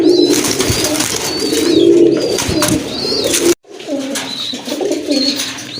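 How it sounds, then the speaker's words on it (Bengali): Active pigeons coo loudly and close by in a steady stream of soft, rolling calls, with a brief cut partway through before the cooing resumes. "খুবই চটফটা অ্যাক্টিভ কবুতর"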